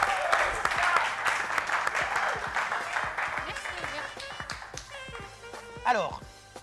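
An audience in a small hall claps, a dense patter of many hands that swells and then thins out, with voices and chatter mixed in.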